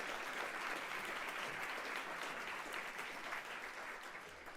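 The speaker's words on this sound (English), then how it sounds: "Can you please give them a round of applause?" A luncheon crowd at a City Club gathering in Cleveland applauds the wait staff, with steady, even clapping from a sizable room that sounds somewhat distant and tapers gently at the close.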